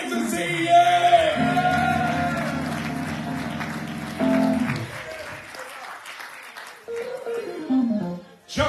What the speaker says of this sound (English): Clap your hands and say, yeah